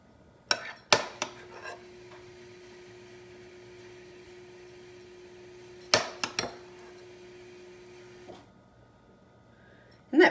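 Metal spoon clinks against dishes while filling deviled eggs in a home kitchen, a few sharp scattered clicks and taps with a faint sustained ring between them and quiet pauses.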